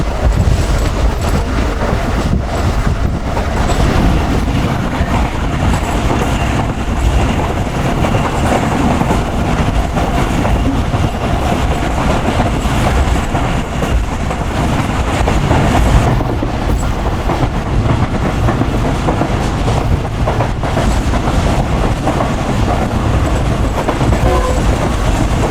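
Pak Business Express passenger train running at speed on the Karachi–Lahore line, a steady loud rumble and rattle of wheels on rails with continuous clatter throughout, no talking.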